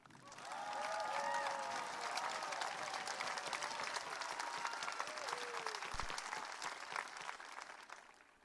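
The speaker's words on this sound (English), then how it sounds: "Let's give the class of 2023 a round of applause." A large crowd applauds at a high school graduation ceremony for the class of 2023, a loud sustained wash of clapping with scattered cheers that rises quickly and continues without letup.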